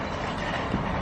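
A train passing by outdoors at night, a continuous rolling rumble with faint rattling, moderately loud and steady.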